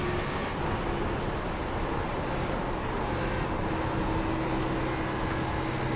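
Steady engine drone of a Cup stock car cornering at Chicago in the iRacing sim, a continuous broadband roar with a faint tonal whine, constant and fairly loud with no talk.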